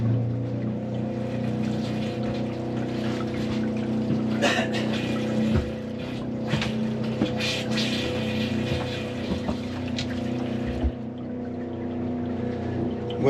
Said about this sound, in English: The pump is on. Pressurizing.